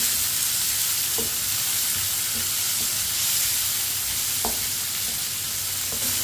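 Chopped tomatoes and finely cut green chillies fry in a pan with a steady broadband sizzle, while a spoon scrapes and stirs in occasional short clinks; no one speaks.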